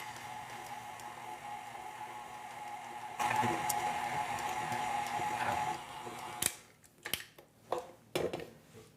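A stand mixer blends flattened oats into thick chocolate oatmeal cookie batter, a steady mid-loud whir that cuts off partway, leaving a few short clinks and knocks of handling.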